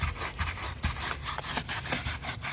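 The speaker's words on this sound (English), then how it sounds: "Get the scrubbing." A stiff brush scrubs coated boat carpet in quick back-and-forth strokes, a close, steady rasping that rises and falls with each pass, with no voices over it.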